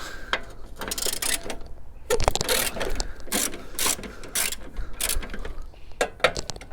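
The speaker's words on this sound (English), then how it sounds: "So as I say, we've got 3 13mm bolts. So we undo those 3 bolts." A ratchet wrench undoes the three 13mm bolts on a Fiat 500 battery tray, giving bursts of rapid clicking, close and loud, with short pauses between strokes.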